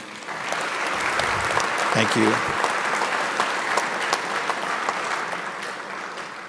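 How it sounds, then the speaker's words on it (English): Sustained audience applause fills a graduation ceremony hall, steady and dense throughout, with a voice briefly speaking over the clapping partway through. "Please give them a round of applause."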